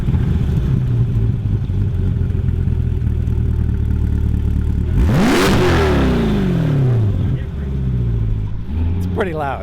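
A stock Corvette C8 sits idling with a steady low rumble, then revs hard in one loud, sweeping burst around the middle, the pitch climbing and falling back before a second, shorter blip near the end, close by.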